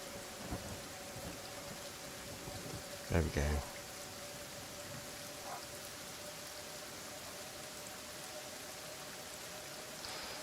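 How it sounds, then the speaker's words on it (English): Acid rain and thunder in the game Kenshi: steady rain hiss throughout with a loud, brief thunder crack near the middle, a faint rumble later, and someone speaking briefly over it. "So this is acid rain."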